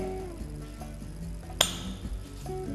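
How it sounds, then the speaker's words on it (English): Tuning fork held by its stem and struck on a rubber pad beside a sonometer, giving one sharp clink at mid-clip that rings briefly over a low, steady background hum. "holding a tuning fork at its stems like this, we stroke it on the rubber pad"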